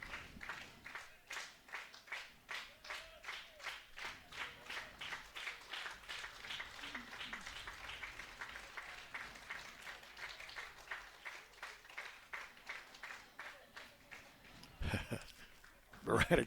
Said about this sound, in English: That interrupts the staccato clapping by the fans.